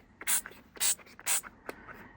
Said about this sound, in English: And I just spray this over the entire surface.